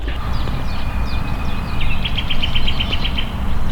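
Birds chirp and trill outdoors in the Łódź Botanical Garden, Poland, over a loud, steady rushing background noise, including a rapid repeated series of short notes.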